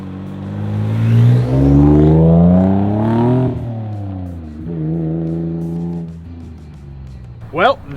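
A 1999 Mitsubishi 3000GT VR-4 making 500 horsepower revs hard and loud through rising, sweeping engine pulls, easing off and building again as it drives, with talk heard alongside.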